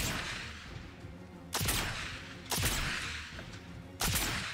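Rapid rifle shots from Sniper Elite 5, three loud sharp cracks spaced about a second apart, each with a short echoing tail over steady background game ambience.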